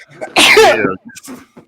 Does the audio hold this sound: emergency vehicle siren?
no